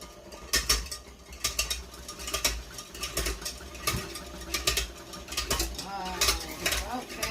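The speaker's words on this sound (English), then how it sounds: "So, switched it on. I'm going to start off nice and slow because I don't want it all over the place." An electric hand whisk mixer whirs and rattles steadily as it whips cream for ice cream, its beaters clattering against the bowl throughout at close range.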